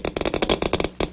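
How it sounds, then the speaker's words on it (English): A Geiger counter speaker clicks in irregular bursts as it detects alpha particles from a polonium-210 source, a rapid cluster of sharp, loud clicks. "Each burst of current makes a clicking sound come from the speaker."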